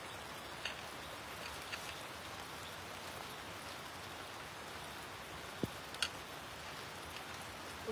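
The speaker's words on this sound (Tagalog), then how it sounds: "Umalis kayo dun, sir. Umuulan na." Steady rain falls on a surface at Mayon, a dense, even hiss of drops with a few louder isolated ticks, fairly quiet and continuous with no voices.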